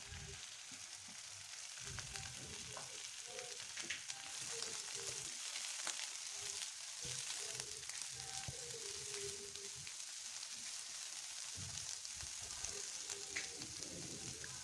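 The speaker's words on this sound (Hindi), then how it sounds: "काटी रखिथिबा प्याज को सेथरे पकाई भाजिबा" Chopped onions fry in hot oil with cumin seeds, a steady close sizzle running throughout with occasional crackles and stirring scrapes, no voices, while onions are sautéed for a rohu fish do pyaza.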